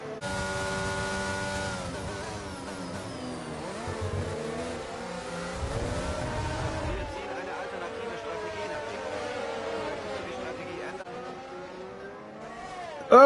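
F1 race cars in a video game at the Italian Grand Prix, engines whining and shifting through gears at high revs, steady and continuous with a brief lower rumble, under a commentator's voice.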